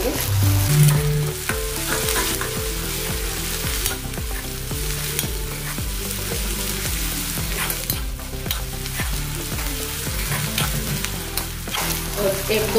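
Ginger and garlic paste fries in hot oil while being stirred, a constant crackling sizzle broken by repeated scraping strokes in the pan, with soft background music playing underneath.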